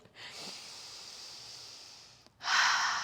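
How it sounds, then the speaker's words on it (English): Deep, heavy breathing after a strong core Pilates abs workout: a long, steady, breathy exhale followed by a sharper, louder intake of breath, close to the microphone. "I'm okay, I'm just breathing."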